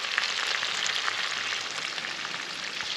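Asparagus frying in a hot pan, a steady bright sizzle with fine crackling spits, close and unbroken throughout.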